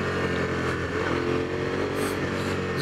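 A 2006 Suzuki SV 650N motorcycle accelerates hard from second gear, its engine droning loud and steady from close range, heard alone without talk.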